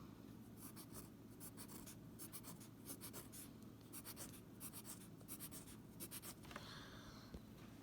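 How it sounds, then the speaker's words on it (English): A pencil scratches on paper nearby as eight small triangles are drawn for a classroom fractions exercise. Short, soft strokes come in quick, regular clusters, with no talking. "Okay, so I drew 8 triangles."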